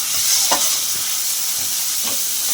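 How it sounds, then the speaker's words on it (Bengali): Ground spices with Kashmiri chili powder being fried over high gas for a chela fish curry, giving a steady sizzle with a few scraping stirs of the spatula. "গ্যাসটা জোরে দিলাম, দিয়ে সমস্ত মশলা কষে একটু জল দিয়ে"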